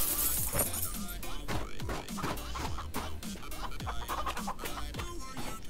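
Chickens cluck on a farm in a video game, a busy layer of short calls under steady game sounds with a few sharp clatters, running through the whole stretch.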